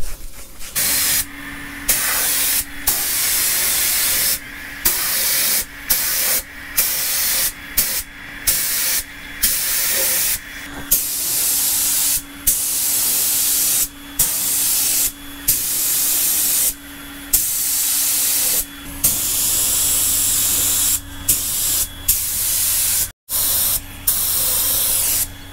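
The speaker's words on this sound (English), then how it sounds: "So we're giving the wheel centers the surface prep here real quick so we can get hopefully most of that primer used up." Spray gun laying primer onto tractor wheel centers during a Farmall restoration, loud hissing bursts in quick repeated pulses with brief gaps, continuing nearly without pause.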